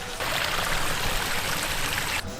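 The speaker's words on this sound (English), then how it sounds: "we're actually camped next to a huge waterfall" Rushing water from a huge waterfall beside a campsite on the south coast of New South Wales, a steady, dense roar that stays constant and fairly close throughout with no voices.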